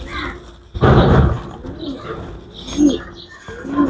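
Giribaj pigeons at a pigeon farm in Arabpur, Jashore, cooing in soft low rolling phrases, with a loud burst of fluttering wings near the start and faint background murmur throughout.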